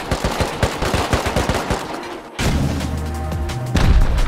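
Rapid, loud bursts of automatic gunfire in the survival game Rust crackle for about two seconds, then give way to a sustained, dense roar with a ringing tone and a louder swell near the end.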